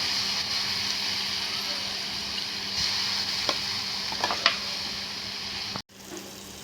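Tomato pieces frying in a pan, a steady close sizzle with a few scraping stirs and light clicks, no talking heard.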